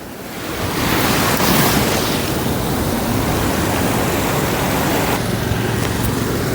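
Storm-driven sea waves crash onto the shore road in the Point Pedro area, a loud, continuous surging roar mixed with gusting wind buffeting the microphone, close and unbroken throughout.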